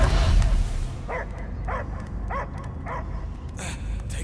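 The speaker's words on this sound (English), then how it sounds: "I hear only barking." Dog barking in the Guardians of the Galaxy video game, a steady series of about six evenly spaced barks after a loud opening second, heard against a constant low game rumble.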